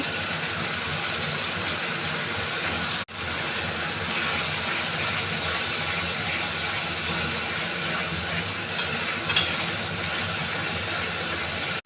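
Spice paste sautéing with red-fried onions in a pan for a meat curry, giving a steady, even hiss throughout with one brief dropout near the start and no talking.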